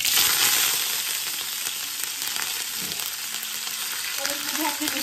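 Loud, steady crackling sizzle of dried red chilies, mustard seeds and curry leaves frying in hot oil, close up and continuous, with faint clinks of stirring.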